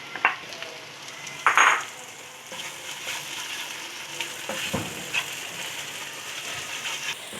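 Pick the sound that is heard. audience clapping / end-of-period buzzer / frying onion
frying onion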